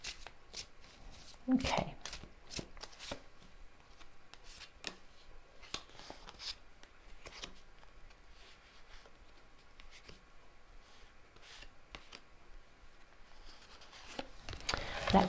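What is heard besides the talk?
shuffling tarot cards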